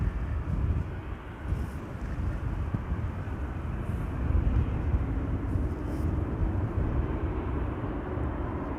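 An airplane at Amsterdam Schiphol Airport gives a steady, loud broadband roar that holds evenly throughout, with no voices.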